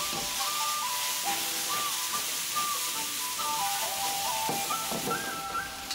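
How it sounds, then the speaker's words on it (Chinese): Loofah tossed over high heat in a wok with chili bean paste and red oil, a loud, continuous sizzling hiss with scraping stir-fry strokes and bright metallic squeals running throughout. "把丝瓜倒入锅中，用大火快速翻炒均匀。"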